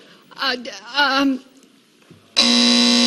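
A game show buzzer on a 1985 syndicated episode of Sale of the Century sounds abruptly after voices, a loud harsh continuous electronic blare that holds steady to the end.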